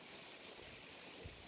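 Strong wind blows outdoors, a broad steady rush buffeting the microphone with a low rumble, constant and loud throughout with no voices.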